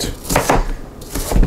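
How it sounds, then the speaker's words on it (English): A knife chops garlic cloves and onion on a board, with a few quick close thuds in two short bursts, loud and alone without talk. "Five cloves of garlic, five halves of an onion, however you like it, big, small, diced,"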